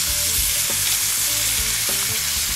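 Sausages frying in a pan at an outdoor visit, a loud, dense sizzle with crackling and a few scraping stirs close by, no voices over it.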